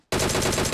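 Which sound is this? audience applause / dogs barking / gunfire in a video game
gunfire in a video game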